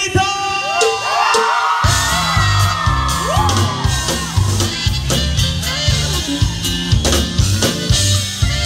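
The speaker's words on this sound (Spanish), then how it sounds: "¡Y échense un grito!" A crowd at a live norteño concert in El Campo, Texas, shouts, yells and whoops loudly over the band's music, the cheers rising in repeated bursts.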